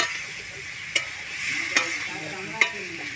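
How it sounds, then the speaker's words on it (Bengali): A spatula scrapes and stirs fish curry in a frying pan over a steady sizzle, with three sharp clinks against the pan at roughly even intervals, close and moderately loud. "এই দেখো ভালো করে নেড়ে নিচ্ছি"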